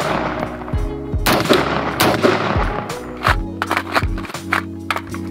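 Rapid semi-automatic shots from a Smith & Wesson M&P Sport II rifle, fired in quick clusters of sharp, loud cracks with short gaps between strings, close and up front.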